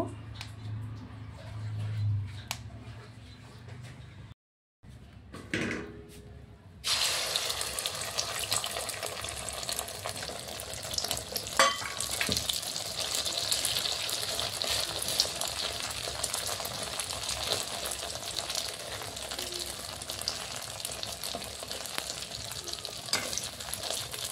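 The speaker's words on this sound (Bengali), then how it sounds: "এবার এর মধ্যে ডিম ভাজার জন্য তেল দিয়ে দেব।" Oil in a washed wok, heating before eggs are fried, gives a steady sizzling hiss. It starts faintly after some quiet handling noises and a short silence, then turns loud and continuous. There is no talk.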